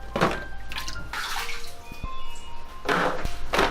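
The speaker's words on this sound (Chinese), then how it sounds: "我们先来把豆角清洗干净。" Long beans being washed by hand in water, with splashing and sloshing in bursts and water running between them, close and fairly loud, no talk.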